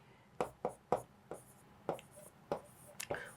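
Chalk or marker strokes tap and scratch on a classroom board in short separate bursts, about eight quick marks at an uneven pace, fairly close and crisp against a quiet room.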